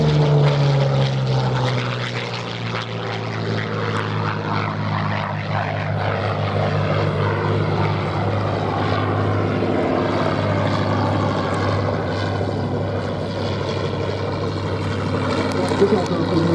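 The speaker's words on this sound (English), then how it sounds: "This aircraft was an original German-built Sturm, produced in 1943." A 1943 German-built Fieseler Storch propeller plane flying at an air show at Duxford, its engine a steady, loud drone that holds throughout while a voice talks over it.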